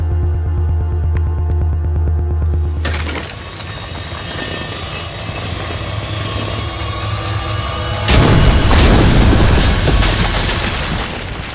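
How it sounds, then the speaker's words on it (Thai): A loud low rumble gives way to a sudden burst of crackling noise, then a second heavy blast hits and rolls on with debris-like roar. "ระเบิดได้"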